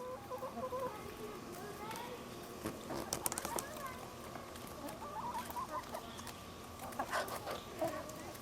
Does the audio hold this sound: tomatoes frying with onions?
no